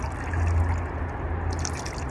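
Water trickling and dripping steadily from a kokedama moss ball as it is squeezed after soaking, a close, continuous wet spatter lasting a couple of seconds with no talking.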